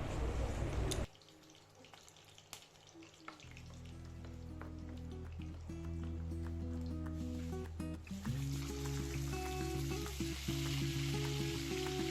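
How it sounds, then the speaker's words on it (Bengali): Chicken pieces fry in ghee in a pan, a loud, close, steady sizzle that starts abruptly after a brief tap-water rush, with stirring clatter and a surging hiss as more meat hits the hot fat. "আগে চিকেনগুলোকে ভালো করে একটু ভেজে নেব"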